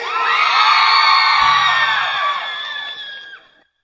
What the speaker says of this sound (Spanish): ¡Aplausos para Susi!